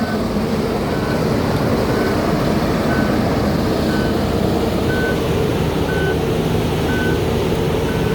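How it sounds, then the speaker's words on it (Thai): A heavy XCMG XS263S vibratory road roller rated at 28 tons works a road alongside a road milling machine, producing a loud, continuous engine drone and vibration rumble with a repeating reversing beep about once per second. "พาพีน้องมาดูรถบด รถบดสั่นสะเทือนครับเคลื่อนสองเพลาพี่น้อง"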